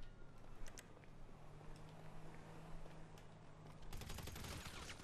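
Gunfire in the video game GTA 5, a rapid burst of shots over a low steady engine-like hum, with a denser, louder volley breaking out near the end.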